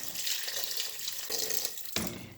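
Water runs steadily from a tap or jug into a pot over butter-fried vegetables for a green squash dish, a close, splashy flow with a few surges and a sharp knock near the end, no voices.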